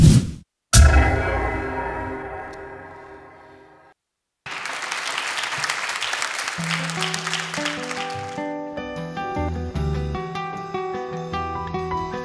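Audience applause fills a live Azerbaijani music stage show after a sustained note fades out and a brief silence passes. The clapping is dense and steady, and musical tones return faintly beneath it toward the end.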